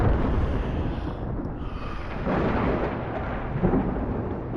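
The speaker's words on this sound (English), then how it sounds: "we'll sit tight for just 1 second while this bloody lightning and thunder is going on" Rolling thunder in a video game thunderstorm, a deep sustained rumble with swelling surges, loud and alone without any voices.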